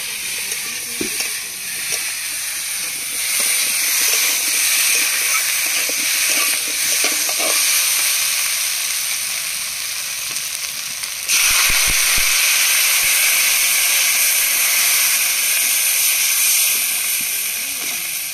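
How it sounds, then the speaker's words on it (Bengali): Water poured into a pan of fried taro roots brings a loud, hissing sizzle that jumps up partway through and stays strong, with some stirring scrapes and steamy hiss. "কচুরমুখীগুলো 3-4 মিনিট ধরে ভালোভাবে কষিয়ে নিয়েছি। এবার জল দিয়ে দেবো।"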